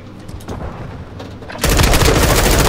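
Gunfire in Modern Warfare 2 during a 2v2 Gunfight match, starting with quieter shots and switching abruptly to a loud, dense barrage of rapid fire for the last second of the clip.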